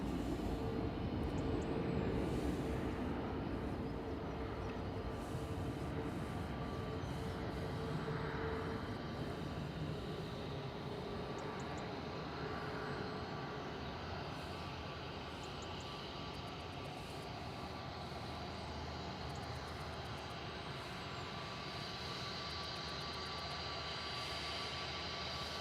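A Boeing 747 airliner taxis off the runway at Manchester Airport, its jet engines producing a steady, broad roar that holds at a fairly even level for the whole stretch with no voices.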